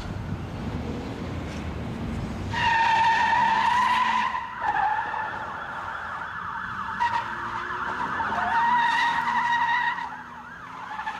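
Tires screech as a patrol car chases a stolen car at high speed. Siren wails rise and fall over engine roar and skidding, loud and close throughout.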